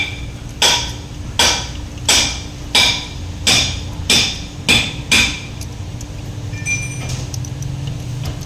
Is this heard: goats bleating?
no